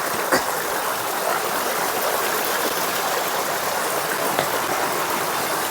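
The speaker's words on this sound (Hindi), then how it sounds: "यहाँ पे लकड़ी के नीचे से पानी आता है" Water running out from under a fallen tree trunk in a forest, a steady broadband rushing and gurgling like a small stream, close and continuous, with a couple of faint taps and no talking.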